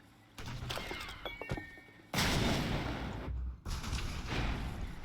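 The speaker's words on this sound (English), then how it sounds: "Is that a tactical nade in Cantina to blow up those droids?" A tactical grenade explosion in Star Wars Battlefront 2 on the Cantina map: a few light shots and clanks, then a heavy, booming blast with a long roaring tail, a brief cutoff, and another roaring burst.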